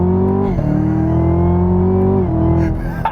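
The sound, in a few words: 2017 Chevy Camaro ZL1 engine revving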